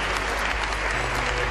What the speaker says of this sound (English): If you're happy, clap for Jesus.